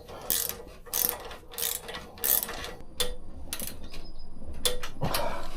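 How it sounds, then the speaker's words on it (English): Ratchet wrench tightening a bolt on the crash bars of a BMW R1100GS motorcycle: several close bursts of fast clicking strokes, separated by short pauses, with a faint scrape at the finish. "now we can tighten this bolt again"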